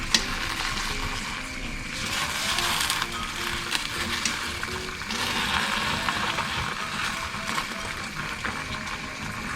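A steady bubbling, rushing wash of boiling water in a pot for blanching basil leaves, continuous and fairly close, with no voices.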